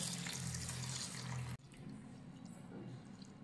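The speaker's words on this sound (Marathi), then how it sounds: "आता यामध्ये पाणी घालूयात आणि 2 ते 3 वेळा पाण्याने हा धुवून घेऊयात।" Long-grain basmati rice being washed in a bowl of water, a close running, sloshing flow that breaks off abruptly, then softer swishing and trickling continues, with no voices.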